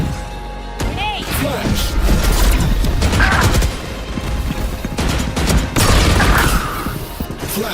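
Grenade blast in a competitive esports shooter match: heavy booming bursts and rattling gunfire-like crashes, loud throughout, with game voices calling out over the noise.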